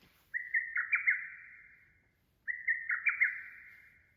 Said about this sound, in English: this is the voice of Hototogisu,